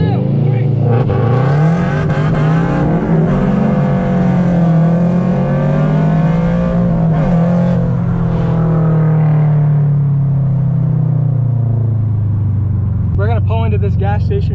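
Toyota GR86 and Subaru WRX STI engines rev hard during a race, a loud sustained roar with rising and falling pitch, voices talking over it throughout.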